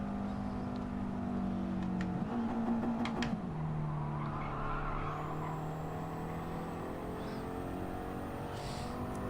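A turbocharged car in Gran Turismo 7 drives with a steady droning engine tone that shifts pitch as it changes gear, the sound continuous and close throughout.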